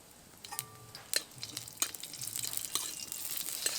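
Panch phoron and four slit green chilies hit hot oil for a sour hog plum and fish roe curry, giving a soft crackling sizzle with a few sharper pops and stirring clicks that gradually build.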